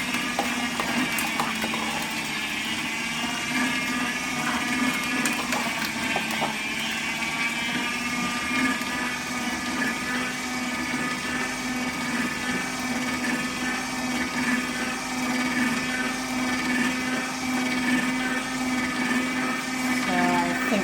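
An Optimum 600M cold press juicer grinds soaked nuts into nut butter with a steady mechanical drone and a ratcheting auger grind, continuous and close for the whole stretch.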